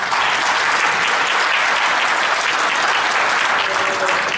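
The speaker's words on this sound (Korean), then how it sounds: "예, 여러분 박수로" Participants at a hundred-person round-table citizens' meeting in a city hall conference room clap in a steady, dense round of applause that fills the hall for a few seconds.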